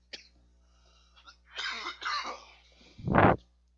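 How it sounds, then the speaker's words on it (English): A few harsh, close coughs and throat-clearing sounds, ending in one loud burst; no talking. "sorry about the coughing"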